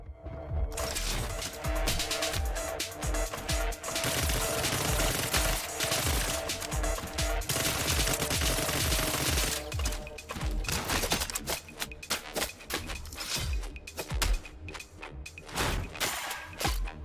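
Submachine gun fire in the cyberpunk game CyberCorp, a dense, sustained rattle of rapid shots with brief pauses, loud and close amid game noise.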